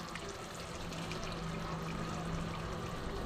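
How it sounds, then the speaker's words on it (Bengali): Water pouring into a pan of pointed gourd and fried fish curry, a steady close splash and trickle running throughout over a continuous sizzle. "আমি এতে সামান্য একটু জল অ্যাড করব।"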